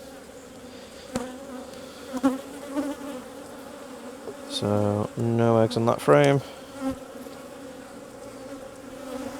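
Honey bees from an angry hive being requeened buzz loudly and steadily close by, with surges of louder droning as frames are handled, while a person talks quietly over them.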